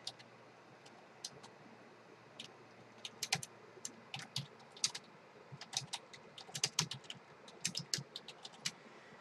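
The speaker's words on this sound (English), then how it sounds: "So I'm just going to type something out." Quiet clicking of keys on a computer keyboard, irregular taps and short flurries of typing growing busier toward the end, with no voices.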